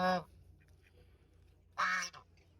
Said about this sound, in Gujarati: બતક પાછળ આવી રહી છે.